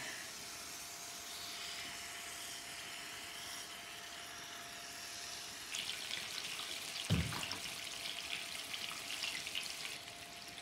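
Fish frying in two pans while cooking fish in coconut milk sauce, giving a steady, faint sizzle with a brief clatter near the middle and no talk.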